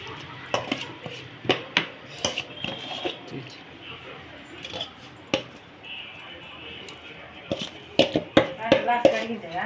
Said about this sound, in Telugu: బాగా ఉప్పు కలిసిపోయేదాకా ఇలా కలుపుకోండి.